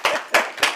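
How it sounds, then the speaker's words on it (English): Church congregation clapping hands, three short bursts of applause in quick succession, close and fairly loud, with no talking. "let's clap our hand and get Amen"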